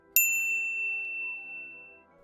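A single bright notification bell ding strikes once, clean and loud, then rings out with a long shimmering decay and no talk.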